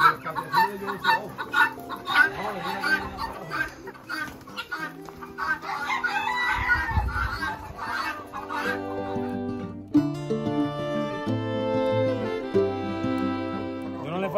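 Roosters at a gamecock farm in Ponce, Puerto Rico, crow repeatedly and cluck in overlapping calls, close and loud, while people chatter and music plays in the background.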